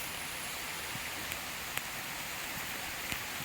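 Steady rain hissing over a garlic field at planting time, a dense even wash of drops with a few sharper ticks, no voices.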